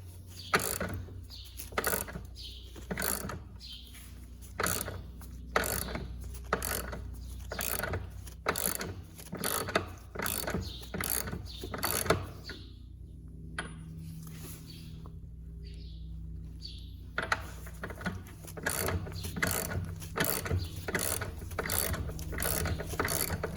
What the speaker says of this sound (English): I've already cracked them off, but I'll just undo them now fully.